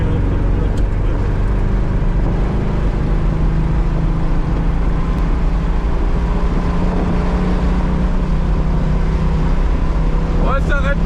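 A Chevrolet Camaro Z28 V8 engine drones loudly and steadily throughout, with a rough, clattering low-end texture and no pauses.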